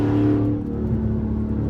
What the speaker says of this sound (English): My car sounds louder, bro.